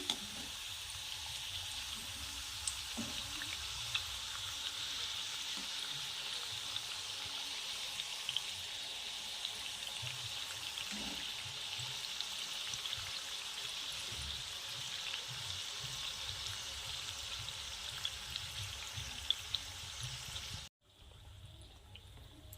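Samosas deep-fry in oil over medium heat, a dense steady bubbling hiss that stays even and close for about twenty seconds before cutting off abruptly, with a few faint knocks underneath and no voices.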